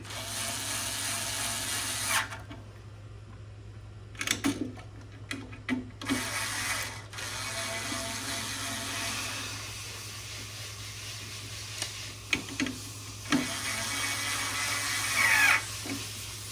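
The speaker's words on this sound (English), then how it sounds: "we have to remove the mounting screw here" Mounting screw being taken out of a Pioneer EZ Shrink EZ3k, rapid ratcheting clicks in short bursts with pauses, over a constant low electrical hum, plus a few knocks and handling noises.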